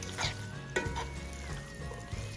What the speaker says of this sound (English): And I'm gonna stir it in